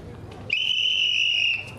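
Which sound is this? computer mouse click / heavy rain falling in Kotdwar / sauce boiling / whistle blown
whistle blown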